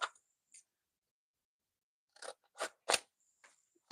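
Scissors snip through paper during card making, a handful of short crisp cuts spaced irregularly with quiet gaps between, close and clear with no talking.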